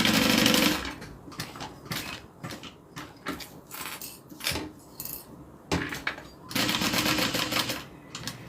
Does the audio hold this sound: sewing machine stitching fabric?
yes